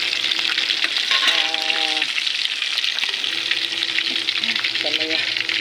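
Fish sizzles and crackles loudly and steadily in oil in a frying pan, with faint voices and a few brief tonal beeps in the background.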